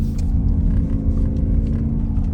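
A BMW XM's engine drones in a steady, loud low rumble while drifting, the revs held fairly constant with no sharp rises, filling the short stretch without any voices.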